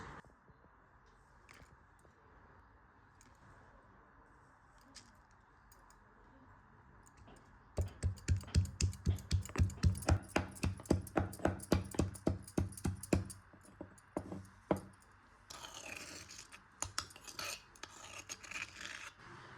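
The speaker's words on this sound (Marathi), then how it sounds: "मसाल्यासाठी एक मिरची, थोडंसं आलं आणि अर्धा चमचा जिरा मी वाटून घेणार आहे। खलबत्त्यामध्ये वाटून घेणार आहे" Green chili, ginger and cumin pounded in a stone mortar and pestle, a quick run of sharp, regular thuds and grinding clicks, close and fairly loud, slowing into scattered rasping strikes after quiet kitchen sounds.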